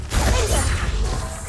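An Incendio fire spell cast in Hogwarts Legacy gives a short roaring burst of flame with a whooshing, crackling rush. It is loud and close, lasts under two seconds, and has a low rumble beneath it.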